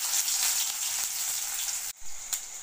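Onions frying in sesame oil in a pan for a mutton cabbage kootu, a steady close bright sizzle that drops out briefly near the end, then resumes more quietly with a small pop.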